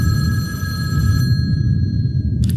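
A telephone bell rings over a dense low rumble for about the first second, stops, then briefly starts again at the very end, answered by an anonymous caller.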